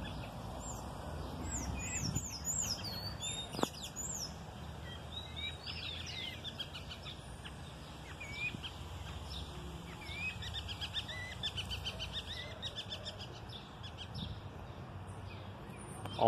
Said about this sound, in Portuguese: Olha os anu aqui, os passarinhos.